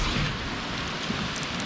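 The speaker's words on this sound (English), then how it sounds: "3 o'clock in the morning, the rain's just hit." Heavy rain pours down at three in the morning during the March 2022 Hawkesbury River flood, a steady, dense roar of downpour with no voices.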